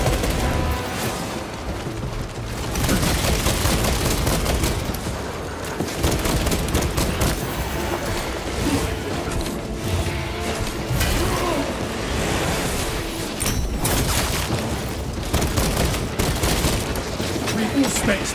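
Heavy bolt rifle gunfire in Warhammer 40K Space Marine 2, a loud, dense, continuous roar of rapid shots with mechanical clatter, sustained throughout alongside battle noise and occasional game voices.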